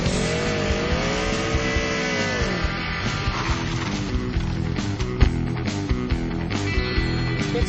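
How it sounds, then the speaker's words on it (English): A car engine revving loudly and continuously with shifting pitch and some tire noise, close and dense, with no talk. "Rev up your engines."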